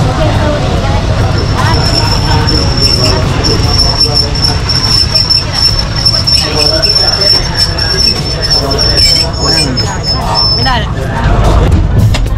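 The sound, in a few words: train arriving at station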